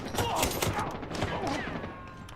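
Rapid bursts of gunfire crackle in the video game Arena Breakout: Infinite, dense overlapping shots with a voice briefly talking over the shooting.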